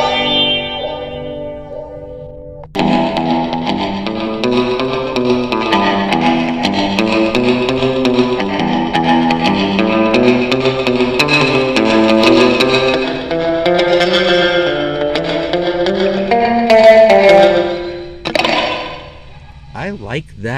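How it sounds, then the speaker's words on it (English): An electric guitar through a one-knob DSP reverb pedal, on a reverse or early-reflection reverb setting with delay, plays a wavering, sustained melodic line drenched in swelling, smeared reverb and delay, after a short plucked intro and before a few final notes. "that's either reverse or early reflection with the delay."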